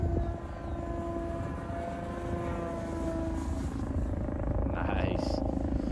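A scale radio-controlled propeller airplane, a Calm Sunday Flyer type, drones steadily overhead in flight, its engine pitch shifting slightly with throttle, while people talk throughout.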